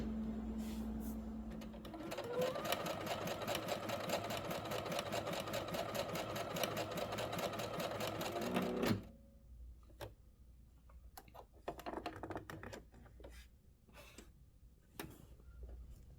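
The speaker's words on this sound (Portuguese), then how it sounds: "E eu vou fazer essas amostras de costura para vocês visualizarem no tecido a diferença da largura." A Singer SE9185 sewing machine runs steadily for about nine seconds, stitching fabric samples with a fast, even mechanical chatter. It then stops, leaving a quiet stretch with a few faint handling clicks.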